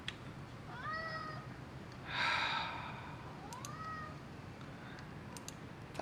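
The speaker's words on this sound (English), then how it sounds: "That little cat gets on my nerves sometimes." A small cat named Tuco meows twice, rising and falling calls a couple of seconds apart, fairly close, in a quiet room with a soft breathy rush between the calls.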